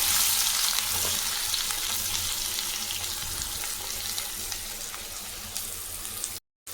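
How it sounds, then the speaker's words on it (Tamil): Onions drop into hot oil in a kadai for onion chapati, setting off a loud, continuous hiss of frying that fades slightly and cuts out briefly near the end. "கடாய் சூடு ஏறிச்சு எண்ணெய் ஊற்றிக்கலாம் நல்லா இப்போ நம்ம வெங்காயம் போட்டுக்கலாம்"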